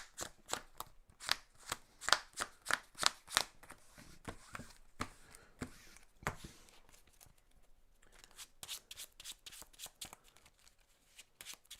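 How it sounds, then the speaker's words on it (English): A deck of cards for the Mage Knight board game being shuffled, a quick run of crisp riffling bursts followed by softer shuffling and another flurry of riffles, close and alone. "Just gonna shuffle quick."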